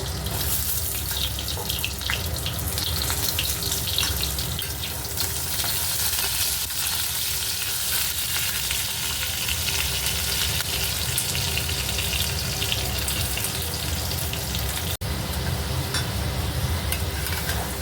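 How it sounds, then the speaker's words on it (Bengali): Diced potatoes sizzling in hot oil for a Bengali pumpkin kumror chakka, a dense, steady frying hiss with faint stirring, close and continuous for the whole stretch without talk. "এবার আমি এই তেলে ডুমো ডুমো করে কেটে রেখেছি আলুগুলো আলুগুলো ভেজে নেবো"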